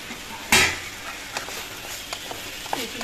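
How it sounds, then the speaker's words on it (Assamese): Soybean chunks frying in a pan, with a sharp clank of metal utensil near the start followed by faint scraping and stirring over a low background hiss. "এইখিনি এনেকৈ প্ৰায় 30 ছেকেণ্ডমান এনেদৰে ভাজি"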